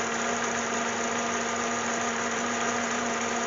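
A 3.6-liter Cadillac CTS V6 idles steadily up close, a smooth continuous hum with a faint mechanical buzz and no voices over it.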